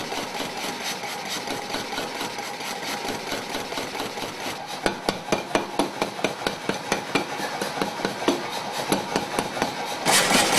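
A foot-pedal power hammer pounds a layered-steel knife blade at a forge demonstration, starting as a steady mechanical drone and breaking into a quick series of loud, sharp blows that repeat close up.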